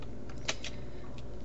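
Computer keyboard typing while entering a book search, a few soft, quick key taps over a steady background hum, one click standing out louder than the rest.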